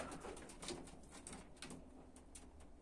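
Soft, low cooing of pigeons in a loft, repeated murmuring calls heard faintly at a slight distance.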